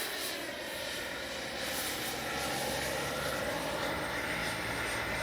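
A HobbyKing Viper 64 RC jet airplane flies past at full speed, its ducted-fan whine rising into a steady, loud rushing roar that swells and holds without a break.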